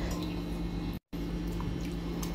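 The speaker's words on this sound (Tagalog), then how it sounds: "So, ayan, magdadagdag na ako ng tubig." Water poured into a pot of chicken and spices for an Israeli chicken-with-olives dish, a quiet liquid splashing and trickling over a low steady hum, with a brief gap partway through.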